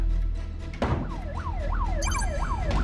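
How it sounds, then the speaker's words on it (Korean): An ambulance siren wails in a steady rising-and-falling cycle, loud and close, over a dense rumble of traffic or engine noise, with a sharp jolt at the start. "곧 구급차가 출동했습니다"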